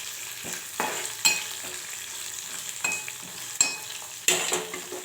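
Onions and curry leaves fry in a pan while being stirred, a steady soft sizzle broken by several distinct scraping strokes of a spoon at irregular intervals.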